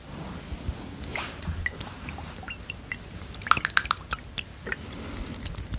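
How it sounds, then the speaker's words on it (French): ASMR water sounds: close, irregular drips, splashes and wet squishing trickle over a soft, steady background hiss. "On va remettre un peu de bruit d'eau."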